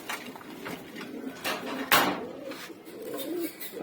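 Fancy pigeons, including Giribaz birds, coo softly in a loft. Their low, repeated calls come amid light rustling and a brief knock, with no speech.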